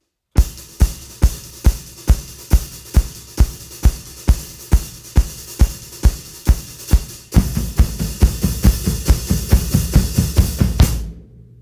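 A drum kit lays down a steady groove, evenly spaced hits at first, then the beat thickens and gets louder with cymbals washing over it.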